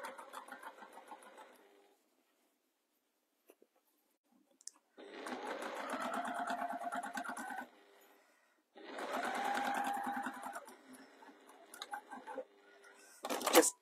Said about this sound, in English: just tiny back stitch at the end